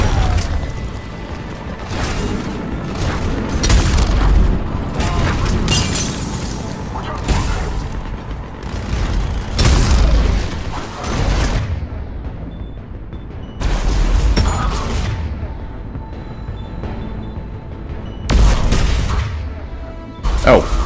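Explosions and gunfire in the video game Mass Effect 3, a run of heavy booms and crackling blasts repeating loudly across the stretch, with dense battle noise filling the gaps between impacts.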